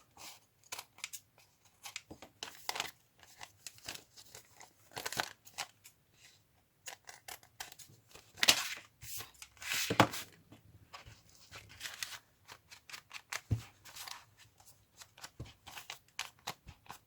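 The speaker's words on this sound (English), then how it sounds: "I'm going to cut this off." Scissors cut through paper and card while an envelope is being made, giving a close series of short crisp snips and rustles spread irregularly across the stretch, with a few louder cuts near the middle and no talking.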